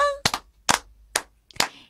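An audience at a Momoiro Clover Z idol show claps in rhythm, giving four crisp, evenly spaced claps in a quiet room, with a brief vocal tone just before the first.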